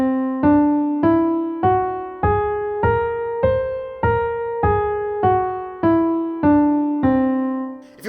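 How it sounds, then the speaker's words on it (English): Whole tone scale played on a keyboard instrument starting on C, eleven clear sustained notes in steady rhythm climbing then descending, each struck note decaying before the next, alone with no talk. "The Wholetone Scale sounds like this."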